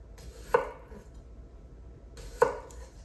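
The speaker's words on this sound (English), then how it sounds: "let me quickly slice that up" A knife slices food on a cutting board in two distinct, sharp chops spaced about two seconds apart, with quiet room noise between them.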